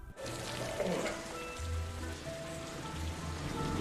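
Steady rain patters on a surface nearby, a continuous hiss with scattered drops, fairly faint and without voices.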